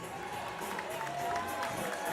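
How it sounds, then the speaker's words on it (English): A crowd at a girls basketball game applauds Redbank Valley, giving a steady wash of clapping and crowd noise with some voices mixed in. "Redbank getting a nice round of applause."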